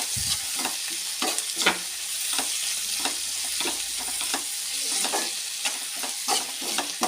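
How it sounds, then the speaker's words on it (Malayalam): Onion, curry leaves, crushed ginger, garlic and green chilli stir-fry in a pan for a clam roast, a close sizzle broken by repeated scraping stirs, with no talk. "കൂടെ തന്നെ നമ്മൾ ചതച്ച് വെച്ചിരിക്കുന്ന ഇഞ്ചിയും വെളുത്തുള്ളിയും പച്ചമുളകും കൂടി ചേർത്ത് കൊടുക്കുക നന്നായിട്ട് ഇളക്കി യോജിപ്പിക്കണം"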